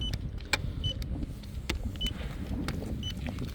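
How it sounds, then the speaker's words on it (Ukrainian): A Toyota Corolla XSE 2.0 sedan cruises quietly with a soft, low road hum, broken by occasional light clicks and a few brief electronic beeps. "Автомобіль в ходу дуже приємний, тихенький, комфортний, гарно їде."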